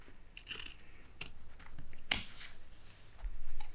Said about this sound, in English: cut up to that point, cut up to that one, rotate them together, and then cut them out.